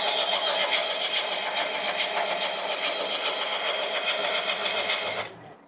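A skid steer's engine runs steadily with the throttle pushed up, giving a loud, even mechanical drone that holds for about five seconds before cutting off abruptly.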